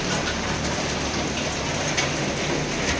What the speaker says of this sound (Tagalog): Huwag na sana lumakas yung ulan.